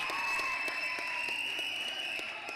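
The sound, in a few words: crowd roaring and applauding after a shot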